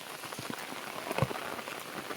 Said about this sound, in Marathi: पाऊस खूप पडतो त्याच्यामुळे आवाज माझा कमी येईल पावसाचा आवाज जास्त आहे